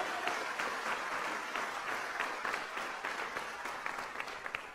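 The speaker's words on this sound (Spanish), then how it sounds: "Denle ese aplauso de alabanza al Señor" A church congregation claps together in praise, a dense steady applause of many hands that carries on evenly throughout with no talking over it.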